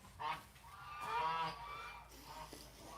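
A confused domestic duck sitting on a clutch of eggs gives a few honking, goose-like calls, close by, with a longer louder call in the middle and faint human voice or movement around it.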